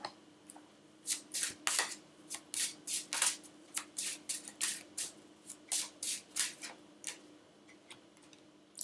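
Tarot cards being shuffled, a run of crisp riffling bursts in an even rhythm, close and fairly quiet with no voice over them.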